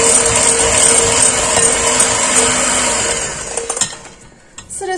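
Steady high-pitched whir of an electric mixer whisking eggs and sugar for an orange revani cake, running continuously for about four seconds before cutting off, followed by a couple of faint clicks.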